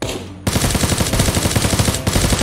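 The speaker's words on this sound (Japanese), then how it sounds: "なんかでもなんか撃ってたな、こいつな。 銃声鳴らしてな" Rapid machine gun fire rattles continuously in the battle royale game Knives Out, loud and close, starting after a brief quieter moment and sustaining in fast bursts.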